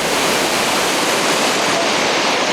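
Water thunders down the waterfall at Uirimji reservoir in Jecheon, a powerful, dense roar rushing loud and unbroken from up close, with no voices.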